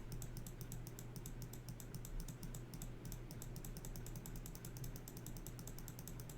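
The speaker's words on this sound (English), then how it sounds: "Who doesn't love the sound of me rapidly clicking through a bunch of crap?" Rapid, steady clicking of a computer mouse or keys while paging through menus, a dense run of quick close clicks with no pauses, over a constant low hum.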